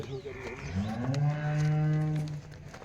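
A single long, loud cow moo, close by, rising and holding before trailing off, from a dairy cow at a cattle sale.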